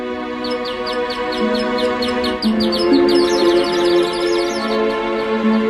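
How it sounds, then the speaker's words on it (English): Mechanical bird from Heron's ancient automaton of cogs, ropes and pulleys sings a steady, rapid run of bright repeated chirps over a sustained tonal drone, loud and continuous throughout. "Inside the mechanism, a series of cogs, ropes, and pulleys made the bird sing when the wheel was turned."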